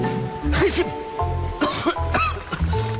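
Several hoarse coughs and throat-clearing bursts come in short clusters over a low hum, close and fairly loud.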